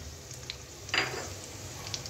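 Whole black peppercorns, dried red chilli and bay leaf frying in hot oil, a soft steady sizzle with a brief louder crackle near the middle and faint clinks, close by with no talking.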